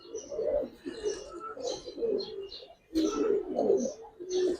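Pigeons of the Giribaz type coo close by in repeated soft, throaty phrases separated by short pauses, with no talking over them.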